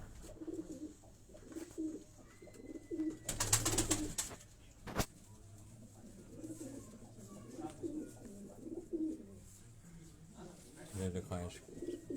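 Several high-flying pigeons coo softly in repeated low rolling phrases, with a sharp clatter and a click partway through and people talking quietly in the background.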